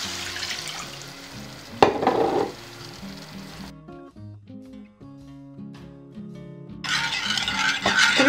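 A glass of water poured into sauce for stuffed peppers, a short splashing pour with a sharp clink of glass against pan, then quiet kitchen handling before a burst of bubbling or sizzling.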